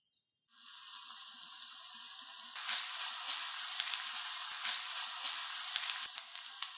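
Onions and shallot sweat gently in a pan with a steady, close sizzle that starts after a brief silence and grows a little denser partway through, with no voices.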